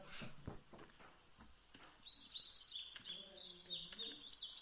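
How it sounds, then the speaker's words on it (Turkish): Small birds in a video game chirp and trill in quick bursts in the background, over faint footsteps and a soft ambient hiss. "kuş hiç kuş yok ama kuş sesi var"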